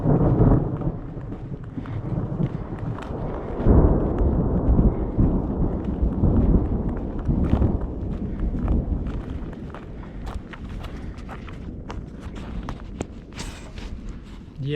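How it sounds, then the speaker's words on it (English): Thunder rolls around a hiking trail in the Idaho backcountry during a storm, a continuous low rumble that swells and fades, fairly loud and steady throughout with no talking. "so that's the thunder I hear all the time all around me,"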